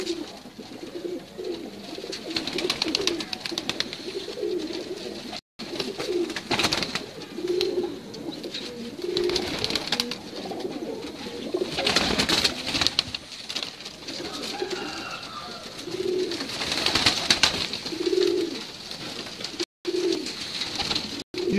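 Firozpuri pigeons coo repeatedly on a rooftop, soft low rolling calls returning in a steady rhythm over a constant hiss of background noise.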